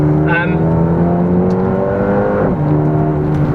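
Mercedes-AMG A35 hot hatch engine pulling hard under acceleration, a loud steady drone climbing in pitch, then a brief dip and recovery around a gear change, with some cabin noise and no talk.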